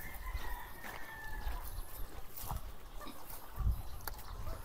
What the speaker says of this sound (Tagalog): Grabe naman daming manok dito